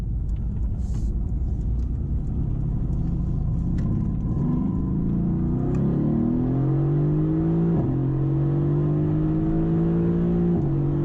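Mercedes AMG GTS accelerating from inside the cabin, a low rumble that builds into a rising engine drone with two quick shift dips, steady and moderately loud with no talking.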